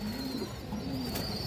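Pigeons, lively pet birds kept in a loft, give a soft steady cooing close by with no talk over it.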